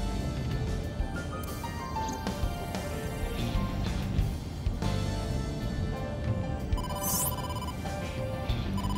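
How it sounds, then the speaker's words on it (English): A telephone rings in the video game AI: The Somnium Files, its ring layered over a steady backdrop of game music and ambience across the whole stretch, without pause or talk. "Phone call, phone call."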